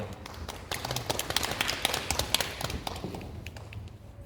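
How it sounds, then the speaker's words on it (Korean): A church congregation applauds to welcome a visiting preacher, a dense burst of many hands clapping that swells quickly, holds for a few seconds and then thins out to scattered claps. "하나님께 감사합니다 영광의 박수로 초청하도록 하겠습니다"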